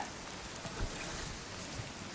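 Steady rain pours onto a lake on a wet May day, a dense even hiss of drops on the water surface throughout, with no talking.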